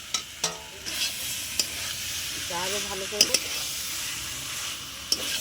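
Mutton being stir-fried with fried potato and jackfruit in a pot, with repeated scraping spatula strokes over a soft, continuous sizzle and hiss. A voice speaks briefly and quietly over the cooking.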